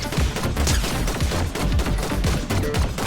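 Gunfire in the video game Fortnite, a loud, dense burst of rapid rattling shots running through the whole moment with no pause.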